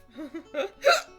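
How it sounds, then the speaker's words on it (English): Several quick hiccups, close and sharp, the last one loudest, with soft breathy sounds in between. "I've got the hiccups."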